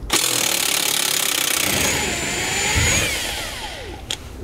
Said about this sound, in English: You'll remove this with a 17 millimeter socket.